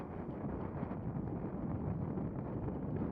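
Headwind buffets the microphone of a rider on a fixed gear bike in a crit race: a dense, steady low rumble of wind noise that stays constant throughout, with no voices.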